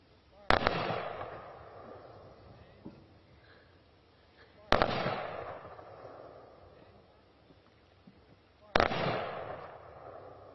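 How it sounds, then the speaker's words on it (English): Three sharp rifle volleys from a military firing squad at a Veterans Day ceremony in a national cemetery, spaced about four seconds apart, each crack ringing out with a long fading echo across open ground. "Rifle squad, you may commence the rifle salute."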